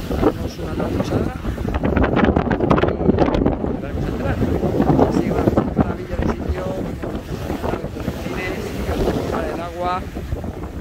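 Sailboat surfing down big waves in strong wind in the Le Maire Strait, with loud continuous rushing water and wind buffeting the microphone close by, a voice talking over it.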